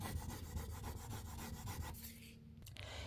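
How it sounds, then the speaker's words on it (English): Continuous close rubbing and scraping as a decorative furniture transfer is burnished onto a dresser, steady and dry with brief pauses near the end and no talking. "I'm going to rub it and remove it from that sheet."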